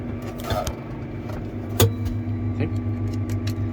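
A Fendt 1167 tractor engine high-idles at about 1,000 RPM, a steady low drone heard from inside the cab, with a couple of brief clicks and rattles over it and no speech.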